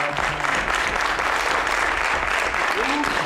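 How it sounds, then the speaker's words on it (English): Audience at a school board meeting applauds schoolchildren, steady dense clapping throughout with crowd murmur and some voices underneath. "Can we get another round of applause for the kids, please?"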